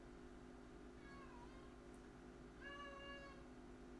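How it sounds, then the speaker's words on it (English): A house cat meows twice, a short call and then a longer drawn-out one, heard faintly over a steady electronic hum in an indoor room. "There's my cat to bother everyone."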